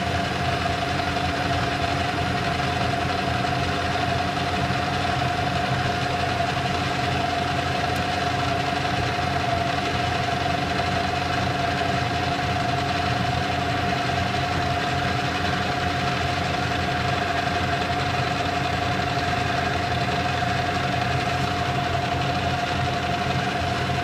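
A lathe cutting tool takes a cut on a metal test punch, giving a steady, continuous machining drone with a sustained whine throughout, fairly loud and unbroken with no talking.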